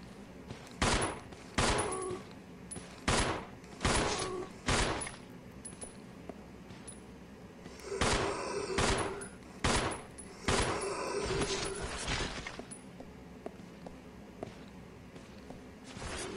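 Gunfire in the Resident Evil Zero video game: a string of sharp, loud single shots spaced a second or two apart, with a few quick clustered bursts and quieter stretches between.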